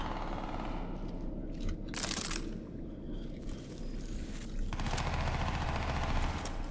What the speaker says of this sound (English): Someone shooting at something.